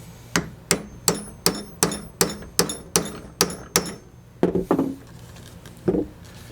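A hammer strikes leather on an anvil while shaping a holster, in a steady series of sharp, ringing blows, about two per second, followed by a few quicker, duller taps.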